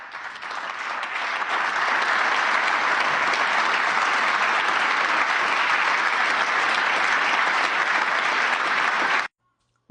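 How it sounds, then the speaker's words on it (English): A large conference audience gives the German defense minister a long, loud, steady round of applause that swells in over the first seconds and then cuts off abruptly. "It appears the German defense minister got the round of applause that J.D. Vance was expecting for himself"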